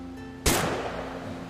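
A single sharp gunshot cracks out in the video game What Remains of Edith Finch, a loud close report over a quiet musical backdrop with a short fading tail.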